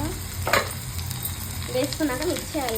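Ingredients stirred and mixed in a hot cooking pan with a steady sizzle of frying, spoons scraping through the mixture close by, with no one speaking.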